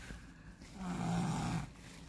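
A sleeping person lying on their side, sweating heavily, snores once: a soft, rough, drawn-out inhaled rumble that swells and fades over about a second, faint and close in a quiet room, with no talking.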